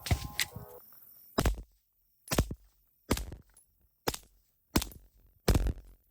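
Suppressed gunshots from a Glock 19 with a short Mojave 9 suppressor firing supersonic rounds, six or seven sharp cracks spaced roughly a second apart with quiet gaps between.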